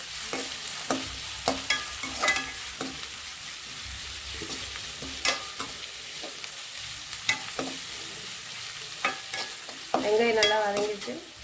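Ginger frying in oil in a pan for rava semiya kichadi, a constant close sizzle broken by repeated sharp scrapes of a stirring spoon, growing louder and more crackly near the end.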